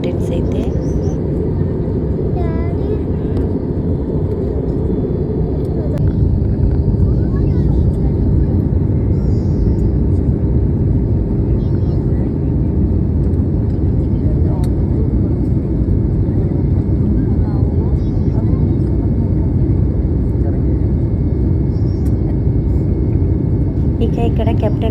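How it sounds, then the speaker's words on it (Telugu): A passenger jet cabin drones with a steady, loud engine and air rumble as the flight descends on approach to landing, the tone shifting slightly partway through, with faint voices underneath. "ఇక ఇక్కడ కెప్టెన్ కూడా మనకు అనౌన్స్ చేస్తున్నాడు ఫ్లైట్ అనేది ల్యాండ్ అవుతుందని"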